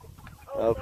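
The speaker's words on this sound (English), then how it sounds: "I think that's a cockerel bird" A single chicken cluck, close by, rising at the end of a short stretch of quiet rustling.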